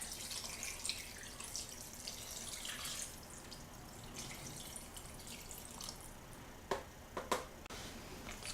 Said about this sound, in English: cover it with water